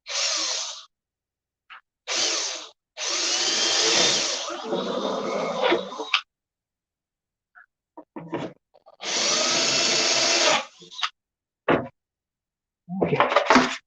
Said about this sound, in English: So we're going to take the drill right now and do this.